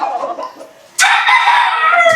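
Bullstag rooster on a large farm in San Rafael, Bulacan, crowing loudly at close range: one strong drawn-out crow that starts abruptly after softer clucking and background noise.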